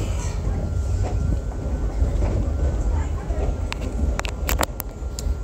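The SAM Shortline excursion train rides the rails between Cordele and Americus, Georgia, heard from inside a car as a steady rumbling roar with a few sharp clicks and squeaks toward the end.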